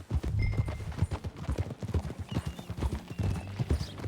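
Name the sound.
horse hooves trotting, from a video game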